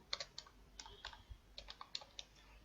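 Keys clack on a computer keyboard in quick, uneven bursts while text is entered into an HTML code editor, close and fairly quiet with brief pauses between clusters.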